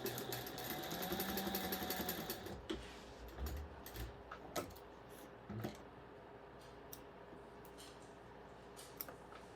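A sewing machine stitches a 1/4 inch seam on a light-up Harry Potter Forbidden Forest themed fabric bag, running steadily and fairly close for about two and a half seconds, then stopping, leaving faint scattered ticks and handling clicks.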